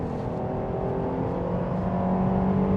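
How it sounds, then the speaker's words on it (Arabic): A Jeep Grand Cherokee L's engine drones under hard acceleration from about 90 km/h in sixth or seventh gear, a loud steady rising roar with road and wind noise and no talking. "لو من سرعة 90 والعربية واخدة الغيار السادس او السابع اهو دلوقت، وقمنا دايسين دوسة"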